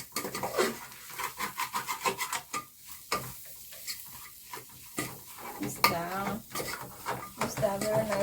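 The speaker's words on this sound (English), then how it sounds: "So basically the biggest job you have here is stirring." A spoon stirs onions in a cooking pot, scraping and clinking in a steady repeated rhythm, close by, with a voice talking over part of it.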